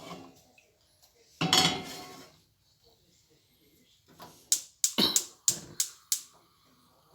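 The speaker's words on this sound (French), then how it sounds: "je mets la casserole sur le gros feu" A saucepan of water is set onto a large burner of a stove: a brief scraping clatter, then a run of sharp metallic clanks and knocks of pan and grate, near and distinct against a quiet kitchen.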